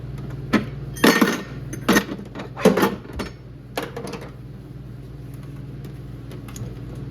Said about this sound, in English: I'm going to disconnect the battery from its hold down